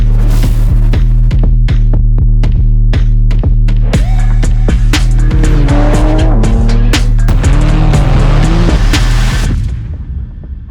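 A Porsche 911 (992) sports car on a test drive around a race track, engine droning loudly and steadily with tire squeal and skidding through corners before the roar fades toward the end.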